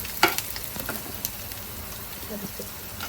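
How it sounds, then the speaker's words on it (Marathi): Whole spices dry-roast in a pan with no oil, giving soft scattered ticks and rattles as they are stirred, fairly quiet with brief sharper clicks near the start. "आता हे खडे मसाले जरा भाजून घेणार."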